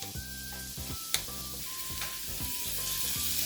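Butter sizzles in a pan with onions, tomatoes, cabbage, ginger and garlic as the mix is stirred. A steady hiss and crackle runs throughout, with a few sharp clinks and tonal background music beneath.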